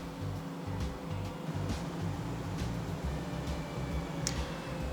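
A steady low mechanical hum and whirring fan noise from a Ninja Foodi XL dual-basket air fryer running both baskets, constant and moderately quiet, with faint light ticks on top.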